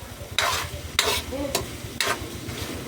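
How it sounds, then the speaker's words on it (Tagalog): Meat frying in a pan for adobong kangkong, with four sharp bursts of stirring and scraping over a low steady sizzle that carries on underneath, the bursts spaced about half a second apart. "Lulutuin muna natin mga lods yung ating karne."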